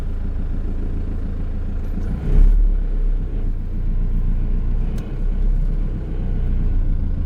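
A 1995 Isuzu TFR extended-cab pickup on a test drive, its engine a steady loud low rumble from inside the cab with a brief surge near the middle, no voices.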